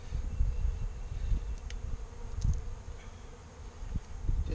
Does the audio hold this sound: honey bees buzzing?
yes